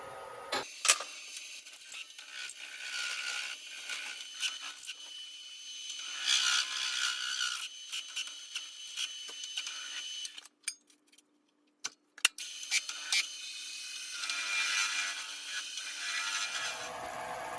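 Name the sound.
wood lathe truing up spinning top stock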